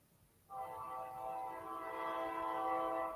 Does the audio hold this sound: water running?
no